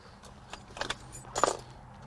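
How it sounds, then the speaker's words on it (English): A bunch of keys jangles inside an abandoned BMW 328xi, a few short metallic rattles spaced over two seconds, faint and close against a quiet background. "There's keys."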